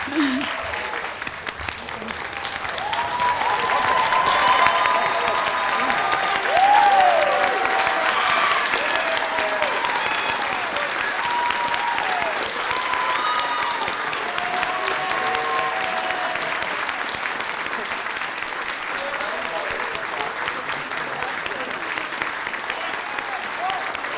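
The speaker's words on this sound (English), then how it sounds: "could we just give everybody a standing ovation right now?" Standing ovation for students at a college winter celebration, a large crowd clapping loudly and continuously for over twenty seconds with scattered voices and cheers mixed in.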